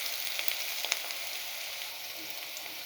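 Raw onions frying in oil in a pan, a steady bright sizzle throughout with a few small crackles and pops near the start, close and fairly quiet with no talking.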